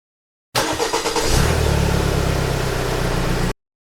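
A KAYO S350 side-by-side's 326.7cc single-cylinder four-stroke engine starts up and settles into a steady, loud idle close by, with no other sounds around it.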